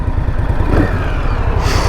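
A 2021 Indian Scout motorcycle engine idling and buzzing steadily nearby, loud and rattly with a slight rise near the end.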